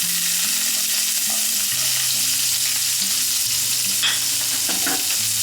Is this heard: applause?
no